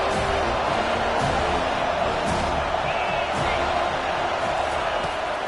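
Stadium crowd noise in the College Football 25 video game during a big third down, a steady roaring wash of cheering with a few brief slams, under game commentary.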